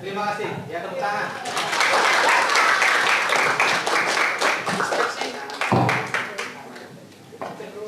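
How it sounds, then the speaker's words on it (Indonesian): Students applaud in a classroom, a burst of close, lively clapping that swells and then thins into scattered claps, with voices heard around it. "tepuk tangan"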